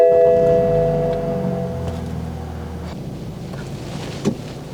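A BMW driving off after an oil change, with a steady engine drone and low road rumble under wind noise. The engine tone fades slightly as the car moves on and is heard without talk.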